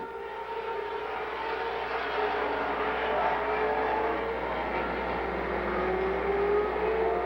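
Race cars racing around the Golden Sands Speedway oval in Plover, Wisconsin, a continuous distant engine drone with pitch rising and falling as cars circle, steady and somewhat faint.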